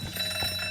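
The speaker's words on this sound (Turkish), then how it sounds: "Triggered the fucking alarm?" A ringing alarm set off during a heist in the video game Mafia III, a steady continuous electronic bell tone held at even loudness throughout, with no voices over it.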